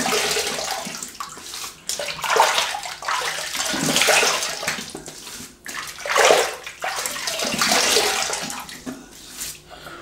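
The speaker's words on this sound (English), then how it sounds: "then just rinse it off" Water splashing and running as shaving product is rinsed off a face at a sink, close sloshing surges that rise and fall irregularly, with no talking.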